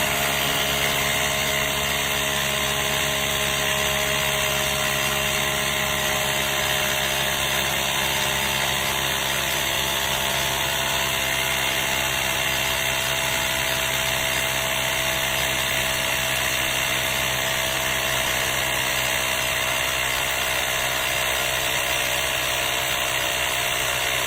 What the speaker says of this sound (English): Pump it up to where you want your tire pressure at.